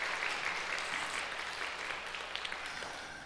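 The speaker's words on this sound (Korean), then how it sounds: "박수 한번 크게." Steady applause from a church congregation after a hymn fills the whole stretch, dense clapping at even volume, slowly tapering toward the end.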